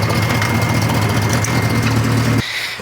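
A Ford 2.3 liter Lima four-cylinder engine in a Pinto race car runs loud and close with a steady buzzing drone, then cuts off abruptly, leaving a fading, quieter tail.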